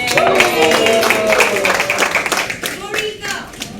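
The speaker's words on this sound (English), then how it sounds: "Round of applause for them, please." A launch-event audience claps and cheers for the founders, the applause mixed with whoops and chatter, fading somewhat near the end.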